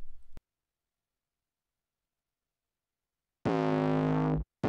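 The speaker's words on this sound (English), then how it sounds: "Let's add some distortion to the 808 to make it stand out more." Distorted 808 bass note played on an Akai MPC Live, a short buzzy sustained tone with gritty harmonics, cutting off abruptly and then briefly restarting after a long stretch of silence.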